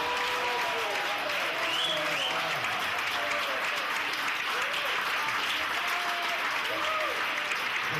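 Steady applause from a small audience at a French-language broadcast event, saluting a man about to turn 75; the clapping holds fairly even and moderate throughout, with faint voices mixed in.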